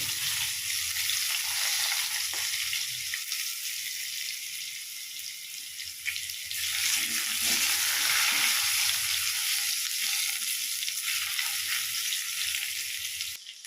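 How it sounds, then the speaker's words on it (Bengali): Potatoes fry until reddish in oil in a pan for a spicy fish curry, a dense, steady sizzle and crackle throughout, close and loud, with occasional stirring and no talk. "আলুগুলো আমি লাল লাল করে ভেজে নেব।"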